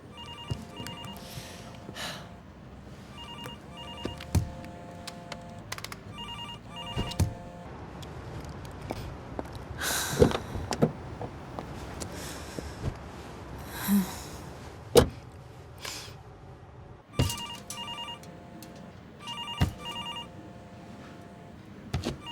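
A telephone rings repeatedly with evenly spaced electronic ring bursts at moderate volume, interspersed with occasional bumps and thuds in a quiet room.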